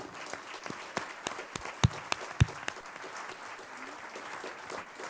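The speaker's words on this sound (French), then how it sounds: "Je suggère d'ailleurs qu'on l'applaudisse avec son équipe, avec les étudiants." Audience applause for an event organiser and her team of students at a parliamentary cyber meeting, a steady wash of many hands clapping with a few sharper, louder claps standing out.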